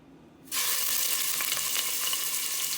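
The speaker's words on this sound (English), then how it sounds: "I put a little oil in a pot and I brown it before I cook it" Meat hitting hot oil in a pot, a sudden loud sizzle that jumps in after a quiet start and keeps frying steadily and close up, with no talking.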